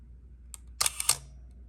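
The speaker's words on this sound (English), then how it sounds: "So let's hear the sound of the shutter." A classic 35mm SLR film camera's shutter fires close up, a faint click followed by a sharper double snap of the mechanism a moment later, quiet and isolated against a low background hum.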